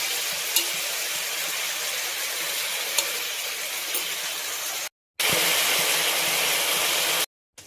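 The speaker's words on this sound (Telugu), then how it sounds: "సాల్ట్ వేస్తే త్వరగా ఉడుకుతుంది వెజిటేబుల్స్." Mixed vegetables with tomato and salt sizzling steadily in a pan for vegetable pulao, a continuous frying hiss that cuts out briefly twice.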